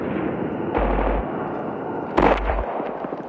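Gunfire in Call of Duty Mobile, played on a phone, comes as two loud bursts of rapid shots, each lasting about half a second, close and punchy against a low background of game sound.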